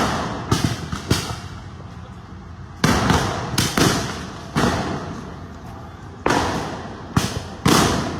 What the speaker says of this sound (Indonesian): menembakkan gas air mata